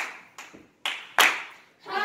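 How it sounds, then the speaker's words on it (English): A church congregation with a youth choir claps in a few loud, separate, echoing beats, each ringing out briefly before the next. "Come on and clap your hands with me."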